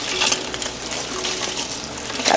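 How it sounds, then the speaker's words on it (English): A steady crackling sizzle of ham bones with bacon and onion skins frying in a pot, close by, with occasional faint clinks. "You can probably hear the sizzling of the ham bones back there"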